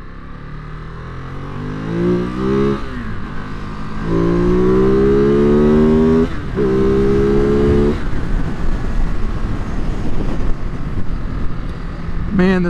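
A 2022 Ducati Monster+ engine revs while being ridden, rising in repeated throttle bursts that climb in pitch over steady wind rush and road noise.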